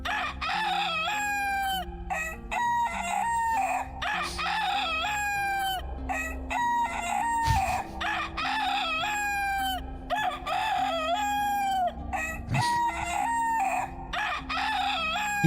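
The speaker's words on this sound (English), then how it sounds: "Chicken time. Yeah, we can just crow incessantly." Chickens in the video game Dark and Darker crow incessantly, with loud, overlapping cock-a-doodle-doo calls repeating one after another for the whole stretch and no talk.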